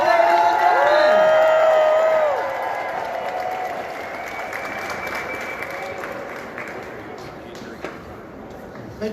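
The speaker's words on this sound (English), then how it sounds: "Give them a round of applause." Crowd at an equal rights rally bursts into loud applause with some cheers and whoops, holding strong for a couple of seconds before settling into a softer, sustained clapping that carries on to the end.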